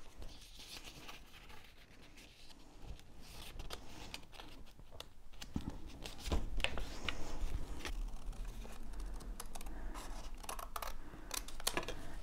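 Scissors snip paper scraps while junk journal pockets are being made, a close, quiet run of irregular crisp cuts mixed with paper rustling and handling noises, with no talking.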